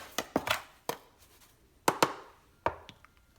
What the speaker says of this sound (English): Let's mix this up real good.